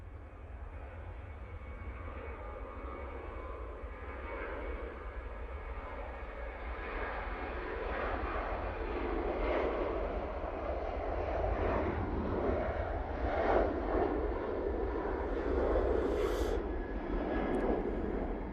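TUI Boeing 737-800 departing Manchester Airport for Lanzarote, its jet engine roar building gradually and swelling louder toward the end, heard alone without talk.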